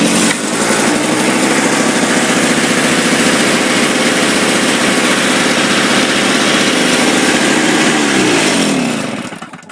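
Toro 20 snowthrower engine running on choke, a loud, steady, close-up small-engine roar with a buzzy exhaust rasp throughout, holding even before tapering off at the very end.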